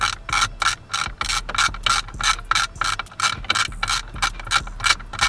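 Rapid ratchet clicking while removing a Chevy steering wheel, loud and close, in steady bursts of pawl ticks with brief pauses between strokes.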